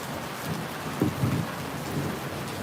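Steady heavy rain falling on a roof terrace and garden, with a low rumble of thunder swelling briefly in the middle, close and continuous with no voices.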